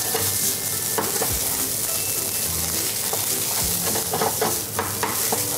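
Chopped garlic frying in hot oil in a pan where rice was being cooked with oil and salt, giving a steady, loud sizzle with occasional stirring scrapes and no voices.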